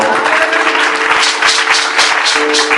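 Congregation applauding in a church service, a dense, steady wash of many hands clapping close by with crowd murmur, continuous throughout.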